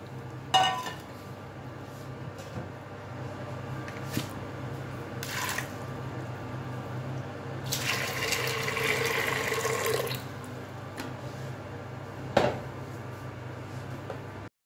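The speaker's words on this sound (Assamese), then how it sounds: "এতিয়া আমি ইয়াত বুটখিনি ভালদৰে ধুই কুকাৰত সিজাই ল'ব লাগিব" Black chickpeas (kala chana) being rinsed in a kitchen sink, with running tap water, drips and occasional clinks of a vessel, plus a few louder splashes and a longer swishing rinse partway through.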